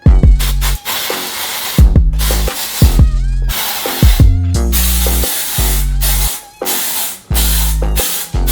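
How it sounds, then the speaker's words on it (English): A hair product spray bottle fires off repeated loud, close hissing bursts with short pauses between them, each spray sharp and breathy, with no speech. "I'm gonna spray it one more time and use my comb."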